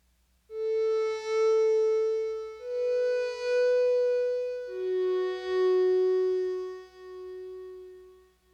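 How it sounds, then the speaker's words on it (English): A Digitone synthesizer plays a slow-attack counter melody, a soft, pure sustained tone stepping through several long notes that swell in gently, alone and clear. "Digitone counter melody is a different patch, slower attack."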